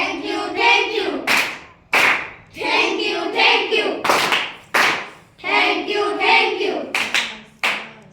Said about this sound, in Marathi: थँक्यू टाळी वाजवायची आहे आणि अभिनंदन करायचं आहे